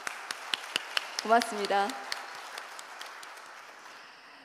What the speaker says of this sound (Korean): 여러분 큰 박수 보내주십시오